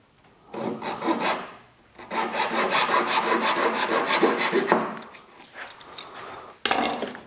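A hand saw rasps back and forth in quick, steady strokes, pausing briefly between bursts of close cutting, trimming the ends of edge banding on chipboard panels.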